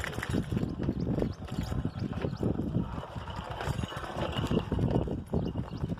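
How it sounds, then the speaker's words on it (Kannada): Bullocks walk along a village track toward the fields, their hooves clopping in a dense, uneven rhythm of close, fairly loud steps that continue through the whole stretch. "ಇಲ್ಲಿ ನೋಡಿ ಇಲ್ಲಿ ಎತ್ತುಗಳು ಬರ್ತಾವೆ"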